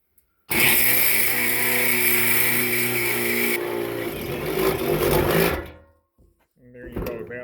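A step drill bit bores a hole through a workpiece set up on a bench, giving a loud, steady whining grind for about five seconds before cutting off abruptly, followed by faint handling noise.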